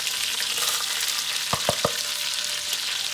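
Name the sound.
red pepper, onions and garlic sizzling in oil, stirred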